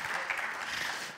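A brief patch of faint audience applause during a talk on military strategy, soft scattered clapping heard at a distance for about a second.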